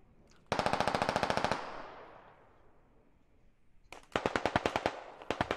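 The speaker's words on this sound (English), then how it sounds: "those 249s are really obvious, aren't they?" M249 squad automatic weapon fire in the military shooter Squad: a loud, fast burst of about a dozen rounds, a rolling echo that fades, then a second long burst of rapid shots that runs to the end.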